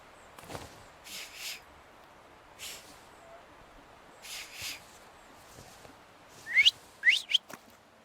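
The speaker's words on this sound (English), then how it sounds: "have you mastered whistling?" Short whistled notes recur in soft pairs in The Thaumaturge video game, quiet over a low background, with a few brighter, louder chirping whistles near the end.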